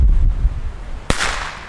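After a low rumbling, a single sharp New Year's Eve firecracker bang cracks out close by, followed by a brief fizzing tail.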